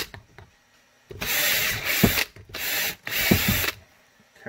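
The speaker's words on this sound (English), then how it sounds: "drill those last three" Power drill boring holes through a Kydex knife sheath, three separate loud drilling bursts with short pauses between, close by, no talking.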